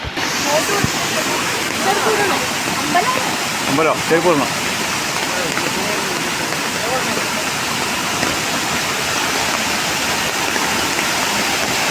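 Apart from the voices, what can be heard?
Bheemeshwara waterfall roaring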